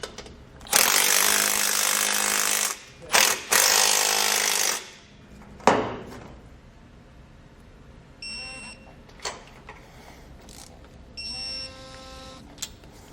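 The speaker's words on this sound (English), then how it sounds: "Now we can go ahead and tighten and torque those two nuts." A power tool drives nuts on an Air Lift LoadLifter 5000 Ultimate air helper spring bracket in two long, loud, close bursts and a short one, followed by quieter clicks and faint tonal chirps.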